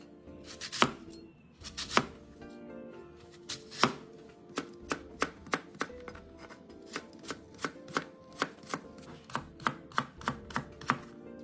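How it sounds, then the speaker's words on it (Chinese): A knife cuts a red Fuji apple into thick strips on a board, with a few spaced chops at first and then a steady run of crisp, close taps, quiet between strokes and with no voices. "红苹果1个，一样切成粗丝"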